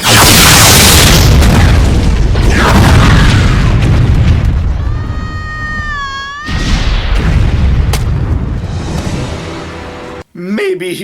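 A huge, roaring explosion bursts in a superhero TV show scene and rumbles on for several seconds, then trails into a warbling whine and sharp effects, followed by a loud shout at the end.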